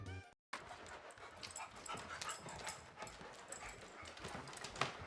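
A dog brought along to a house viewing can be heard faintly indoors, whimpering and moving about under a continuous rustling, scuffling background.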